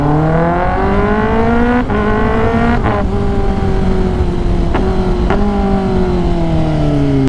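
A 2022 Kawasaki ZX10R motorcycle exhaust revs hard at high RPM, a loud buzzing engine note that climbs and falls across several quick throttle blips and gear changes, close and continuous with no talk.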